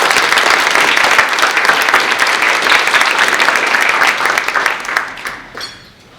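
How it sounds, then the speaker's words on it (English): Loud, dense applause from an audience welcoming a presenter to a talk on sustainability, sustained for several seconds and then tapering off. "with a round of applause, let's welcome Dr."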